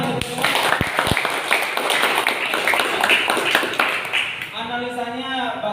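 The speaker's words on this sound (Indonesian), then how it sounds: "Tepuk tangan untuk semua." A classroom group in an automotive engineering lesson breaks into clapping after presentations, steady applause mixed with a few sharp taps and voices, fading into speech near the end.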